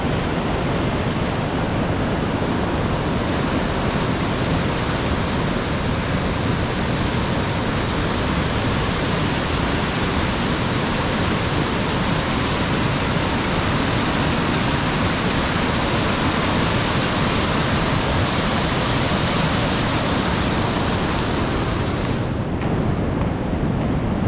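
A river swollen after heavy rain rushes in a loud, unbroken roar of churning water near the listener, with no talking over it.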